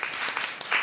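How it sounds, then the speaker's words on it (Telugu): A church congregation claps hands in praise during a sermon, a brief burst of many hands clapping together close by. "చప్పట్లు కొట్టి ప్రభువును మహింపచ్చు"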